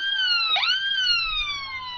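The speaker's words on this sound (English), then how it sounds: "Then why are you using sirens?" A police car siren wails steadily in a roleplay driving game, one long sustained tone that dips sharply and then swings back up, loud and close with no voices over it.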